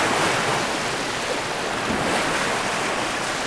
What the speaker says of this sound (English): Oh, there's a lot of waves.